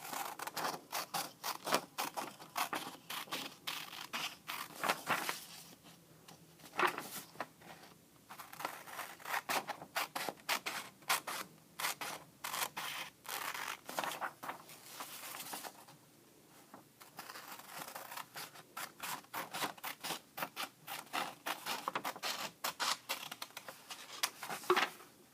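Scissors snipping through paper while cutting out a paper cootie catcher, with repeated crisp cuts in uneven runs and brief pauses, close by and without speech.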